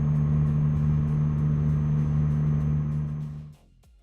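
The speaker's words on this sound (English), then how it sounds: "I thought that was the engine noise." A truck's engine and exhaust in American Truck Simulator drones as a steady, loud low rumble, then cuts off abruptly near the end, leaving near silence.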